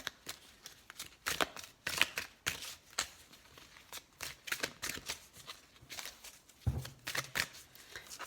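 Tarot cards shuffled and drawn from the deck, producing a steady run of soft papery riffles and slaps at a close distance, fairly quiet, with a heavier thud near the end.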